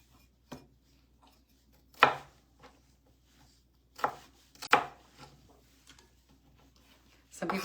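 Knife strikes cutting food in half on a cutting board near a double burner grill pan, a few separate sharp chops spaced by quiet gaps, with a clustered burst near the end.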